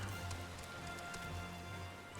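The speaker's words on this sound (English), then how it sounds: "Mostly because it's raining." Steady rainfall in the online game Final Fantasy XIV on an island, a soft, even hiss of drops pattering on surfaces, faint and continuous with no talk.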